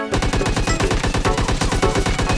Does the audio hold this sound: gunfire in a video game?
yes